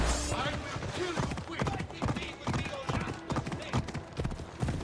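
Horse hooves clip-clop in Assassin's Creed Odyssey, a rapid irregular run of hoof strikes at close range, mixed with other game sounds throughout.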